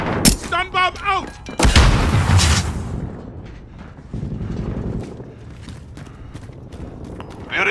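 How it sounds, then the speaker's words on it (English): Stun grenade detonating in the video game Modern Warfare, a loud booming burst followed by a ringing, muffled rumble, with voices talking over the opening moments. "Stun bomb out!"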